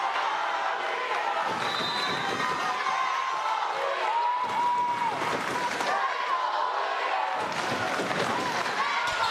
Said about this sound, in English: We got a little cheer off here in the gym